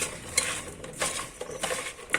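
Vegetables sprinkled with turmeric and asafoetida being stirred in a pan, a close scraping and clinking of a utensil against the metal in quick irregular strokes.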